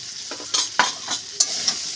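Spices with ginger paste, chili powder and soaked chickpeas being stir-fried in a pan give a close, lively sizzle punctuated by four or five sharp spatula scrapes and clinks over two seconds, with no voices.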